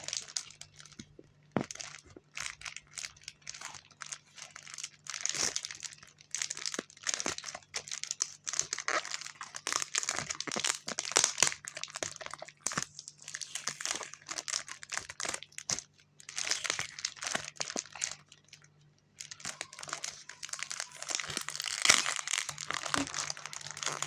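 Continuous crinkling and crumpling of taped plastic packaging holding stickers, with occasional tearing, close up and fairly steady for the whole stretch, no voices.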